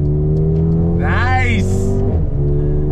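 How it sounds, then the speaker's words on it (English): A 2021 Mercedes-AMG GLB 35 SUV accelerates hard on throttle, its engine note loud and steady with a brief gear change near the end, while someone talks over part of the run. "But where it's gonna feel good is when we go on throttle with this GLB 35."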